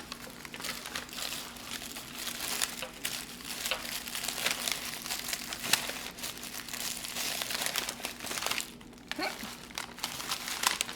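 Tissue paper crinkles and rustles as a paper bag is folded and glued into a piñata, a close, continuous papery crackle with scattered crisp crunches and a faint steady hum beneath.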